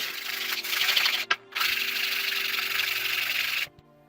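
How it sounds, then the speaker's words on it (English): Steady rasping as a metal ring's flat faces are hand sanded, close and fairly loud, running continuously with one brief pause before resuming and then stopping. "that's the faces sanded, and now we can start to sand the round edge here"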